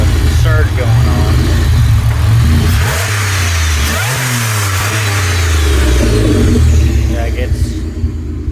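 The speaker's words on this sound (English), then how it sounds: "Here's an engine bay shot of the surge going on." A 1987 Pontiac Fiero engine idles with a surge, its pitch rising and falling in slow surges, recorded close in the engine bay and steady throughout.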